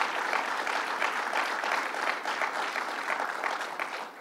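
A crowd claps steadily for a few seconds at a political event on Long Island, dense applause that tapers off slightly at the end.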